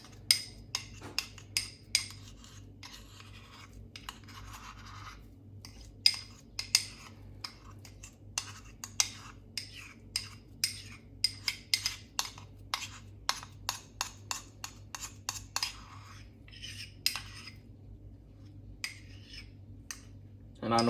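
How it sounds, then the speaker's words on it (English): A spoon clinks and scrapes against a bowl while mixing egg yolks with mayonnaise and Dijon mustard, giving many short, sharp, irregular taps over a low steady background hum, with no talk. "And then I take a spoon"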